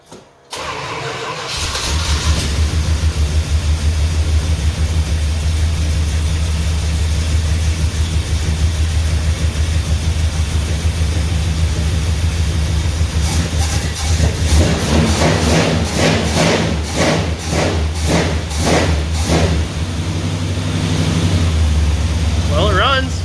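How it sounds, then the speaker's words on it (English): A 400 big block engine in a truck cranks and fires, then settles into a loud, steady, rumbling idle that runs on without a break. Voices are heard faintly over the engine. "This is a 400 big block in this truck."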